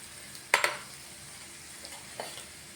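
Okra pakoda fry in hot oil with a low, steady bubbling sizzle, broken by a couple of sharp utensil clinks near the start and another later on.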